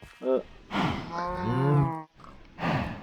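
A Minecraft cow moos up close, one drawn-out low moo bracketed by shorter grunting calls, clear and loud with no speech.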